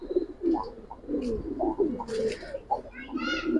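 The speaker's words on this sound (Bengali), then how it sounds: "দেখবেন কবুতরের ডাক, হাতে বসে এত সুন্দর করে ডাকতেছে" A pigeon of a Giribaz or coloured breed, perched on a hand, gives repeated soft cooing calls at close range, mixed with nearby talk.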